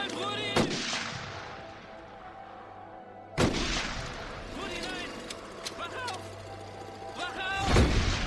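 Gunfire in a film scene: a few sharp, loud shots ring out with long ringing tails and echoes, separated by quieter ambience and voices.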